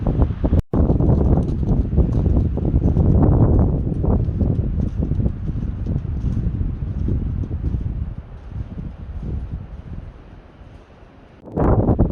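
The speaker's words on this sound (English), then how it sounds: "it is very windy today" Steady roaring wind on a backcountry ridge near Tahoe buffets the microphone with broad rumbling gusts, easing slightly near the end before a final loud blast.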